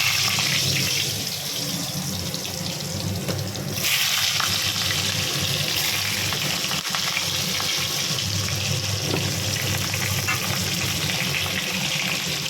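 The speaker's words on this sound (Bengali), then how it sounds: "তার জন্য আলু আলুগুলো একটু ভেজে নেব।" Potatoes sizzle after being dropped into well-heated oil for a mutton curry, a steady, close, hissing fry with a watery rush that continues throughout.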